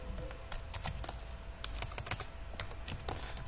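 Rapid clacking keystrokes on a computer keyboard while playing Minetest online, irregular bursts of sharp close clicks with short pauses between runs, no talking.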